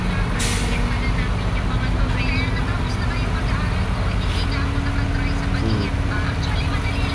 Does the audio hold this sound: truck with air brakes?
yes